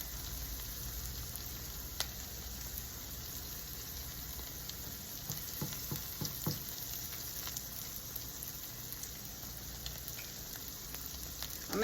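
Spinach omelette with a thin egg-and-milk mixture sizzling in a frying pan, a steady soft crackle throughout with a few light scraping taps near the middle, heard close with no talking.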